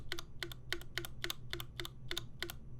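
Keys clack at an even rhythm on a Titan65 prototype mechanical keyboard with a thick aluminum case and a poppy spacebar, about ten crisp, close strokes in quick succession.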